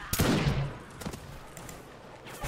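Musket volleys fired in battle in Mount and Blade Napoleonic Wars, with a loud, close crackle of gunfire at the start. Scattered further shots follow and fade into a rumbling, noisy battlefield.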